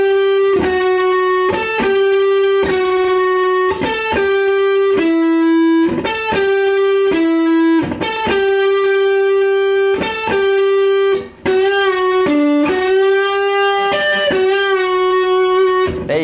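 Overdriven electric guitar playing a lead line with repeated string bends that rise and settle, sustained and loud, with no voices.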